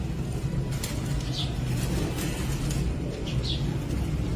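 Pigeons of a prized breed cooing close by, soft repeated low coos over a steady background hum, with a few faint higher chirps.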